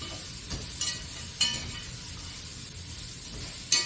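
Ingredients cook in a pot on the stove with a soft, steady sizzle and hiss. A few light clinks of a utensil against the pot cut through close by.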